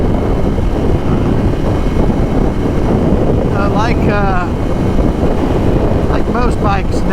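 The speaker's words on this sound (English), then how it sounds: "You do have quite a bit of wind going on" Heavy, constant wind roar buffets the microphone while riding a 2019 Ducati Scrambler Cafe Racer at highway speed, a dense broadband rush with engine hum beneath and a rider's voice cutting in briefly.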